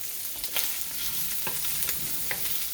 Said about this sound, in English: put a very small amount of additional oil just by the onions. Not much, you don't need much. Okay. And get them nicely fried up.